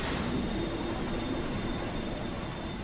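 A train rumbles steadily through a video game match, a loud continuous roar with a faint high whine running throughout, no voices over it.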